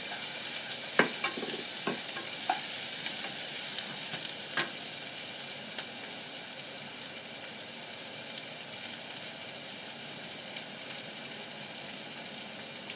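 Garlic sizzles steadily as it fries in a pan for a honey curry. A few sharp stirring scrapes and clicks come early over the continuous close hiss.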